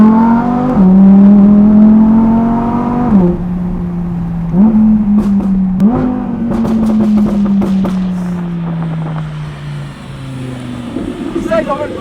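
An Audi R8 supercar engine revs loudly and steadily, its pitch climbing and dropping through several gear-like steps, close to the listener with a little background noise and a brief whir near the end.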